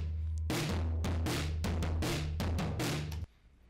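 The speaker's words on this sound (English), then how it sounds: "The trashy mic kind of sounds like this, just blowing one mic out just for fun." Drums recorded through a single overdriven, blown-out trashy mic: a pounding, heavily distorted groove of repeated hits that cuts off abruptly near the end.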